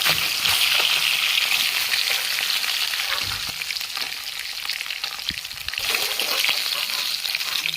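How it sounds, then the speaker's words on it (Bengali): Loud, steady sizzle of rohu fish frying in crackling oil throughout, occasional clinks and stirring knocks, close and continuous with no talking. "সুন্দর লাল করে ভাজা হয়ে গেছে"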